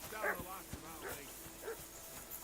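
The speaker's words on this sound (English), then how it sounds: "I assume you can hear that damn dog of yours barking." Dog barking in the medieval game Kingdom Come: Deliverance 2, several faint yips and barks spaced out under distant, low talk.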